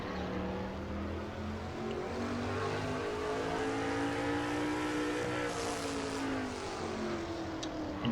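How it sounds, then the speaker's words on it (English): Onboard engine of the AC Delco Chevrolet stock race car in a sim racing series at the Ohio Lottery 200, a continuous loud drone with rising and falling pitch, steady throughout. "And you're on board with the 11th place car, Dylan Young, the AC Delco Chevrolet."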